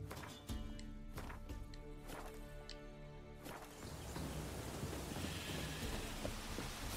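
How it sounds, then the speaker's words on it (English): Steady rain in the video game The Witcher 3, a broad wash of falling water running continuously through the scene, with soft rumbling and a few brief clicks and thumps near the start; no one speaks. "Looks like rain."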